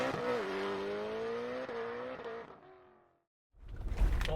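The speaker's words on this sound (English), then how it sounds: "Got the trucks in second gear in the automatic, 4 high, just going down this really rocky trail" Mitsubishi Montero trucks crawl in second gear, automatic, four-high, over a rocky stretch of the Mojave Road trail; a steady, near engine drone holds for about three seconds, fades to a brief silence, then a low rumble returns.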